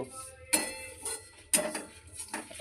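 A spoon stirs oats and sweetener in a pot for payesh, giving a few distinct metallic clinks and scrapes against the pot with quieter shuffling in between, close and fairly soft.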